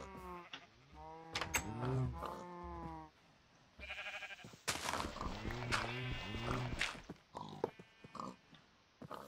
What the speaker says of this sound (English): Oh, Mr. Sheep.